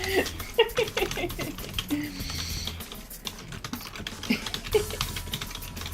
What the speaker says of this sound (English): I hear loud typing